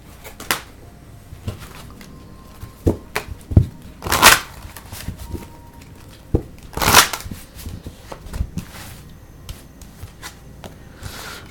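Tarot cards handled and shuffled at a reading, with soft irregular riffles and taps, two longer louder shuffling bursts among scattered quiet card snaps, close up and without talk.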